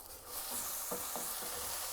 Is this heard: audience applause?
no